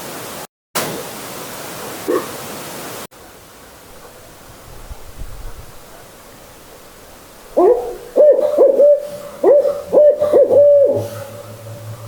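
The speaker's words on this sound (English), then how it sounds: "and those owls" Owls hoot at night close to an old cabin in Minnesota, a series of short repeated hoots in the second half, as if from a tree just outside, after quieter rustling and background hiss.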